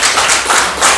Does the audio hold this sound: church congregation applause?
yes